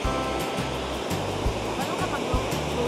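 Myrtle Falls at Mount Rainier National Park: a continuous broad rushing roar of falling water, steady and fairly close throughout.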